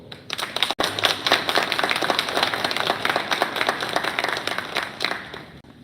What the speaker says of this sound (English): Class 2406, give your family and friends a round of applause for their support.